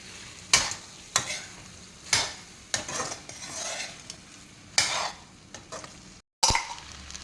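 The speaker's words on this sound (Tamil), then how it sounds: "இப்போது இந்த ஜவ்வரிசி ஊற வச்ச ஜவ்வரிசியை அதில் போடணும்" Soaked sago pearls being stirred into frying vegetable upma in a pan, a steady sizzle broken by about seven sharp scraping stirs of a spoon against the pan at irregular intervals, close and moderately loud with no talking.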